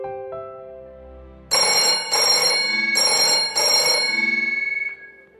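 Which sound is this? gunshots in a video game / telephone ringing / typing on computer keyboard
telephone ringing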